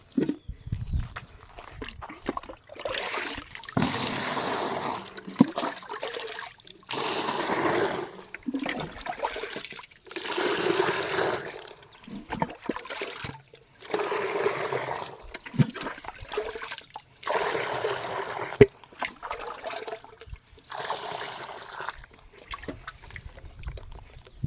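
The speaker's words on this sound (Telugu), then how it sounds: "వాటర్ అయితే పెడుతున్నా గాయస్." Water gushes in repeated surges of splashing flow while mango trees are watered outdoors, each burst lasting a few seconds with short quieter gaps between, fairly faint overall.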